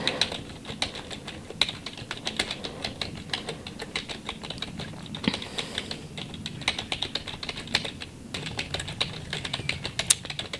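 Steady typing on a computer keyboard fills the stretch, a dense patter of crisp, close key clicks in uneven bursts with occasional louder taps and no talking.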